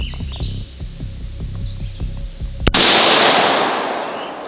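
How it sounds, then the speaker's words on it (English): A .223/5.56 rifle round strikes about a pound of Tannerite, producing one sharp, loud explosive crack followed by a long rumbling decay. Birds chirp faintly in the background beforehand. "We're gonna hit about a pound of tannerite from behind cover, just in case anything comes back."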